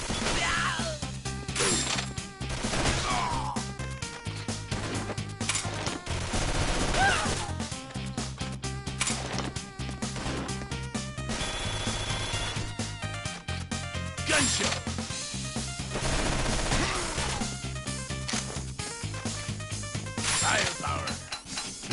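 Rapid machine gun fire in the side-scrolling shooter Mercenary Kings, dense bursts of crackling shots over looping game music, with hits and crashes mixed in throughout.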